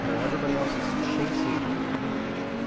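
A GT race car crosses the line at Zolder in Assetto Corsa Competizione, its engine a steady, droning tone under a commentator's voice.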